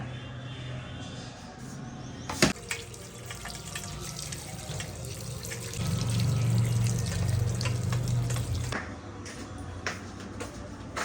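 Fish washed under a running kitchen tap, with steady water gushing and splashing into a sink, a sharp clunk near the start and a fuller flow in the middle, heard close by.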